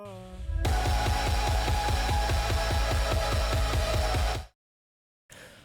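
A loud, dense future bass drop. Steady, pulsing chords pump over heavy bass and drums, then cut to silence, and a brief sound returns at the very end.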